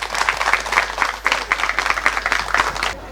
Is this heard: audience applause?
yes